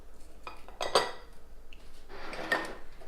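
A utensil stirring flour, baking powder and salt in a bowl for vegan biscuits, giving a few close scraping and clinking strokes against the bowl, with a longer rustling scrape near the end.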